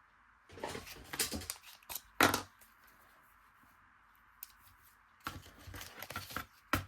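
Paper being cut with scissors during a card-making project, heard as a few short, close snipping bursts separated by quiet pauses, with no talking.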